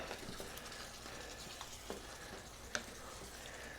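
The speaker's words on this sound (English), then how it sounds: "Now I'm just going to stir that in." Thai curry of sweet potato and pork with creamy coconut milk, stirred in a pan with a rubber spatula, giving a steady soft sizzle with a few sharp scrapes and clicks, close and moderately loud.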